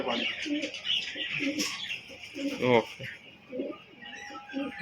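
Soft pigeon coos repeat in short phrases close by, with a voice talking over them and some chirps mixed in; pigeons include Kaldoma, Kalpetia, Phulsira and Madras breeds.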